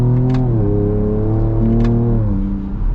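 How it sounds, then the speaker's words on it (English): A Ford Ranger Raptor V6 accelerating under manual-mode shifts, a steady loud engine note rising in pitch through each gear with brief drops between, a faint turbo whistle riding on top, no droning. "You get a little bit of turbo noise, and the V6, it doesn't drone."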